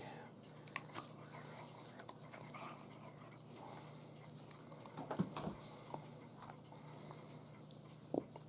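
A puppy gnaws on a dog chew close up with irregular crunching bites and wet chewing clicks that run steadily alongside faint background hum.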